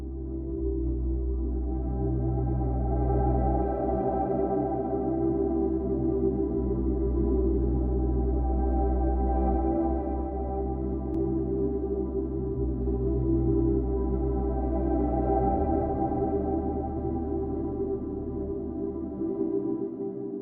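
A deep, steady sine bass drones beneath airy synthesized choir pads, sustained and even, with a shift in the low tone near the end.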